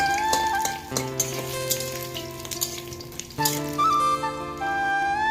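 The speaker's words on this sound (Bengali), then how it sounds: "বড়িটা আগে ভেজে তুলে নেব।" Lentil dumplings (bori) frying in hot oil in a wok give off a steady, moderate sizzle that runs the whole time beneath background music.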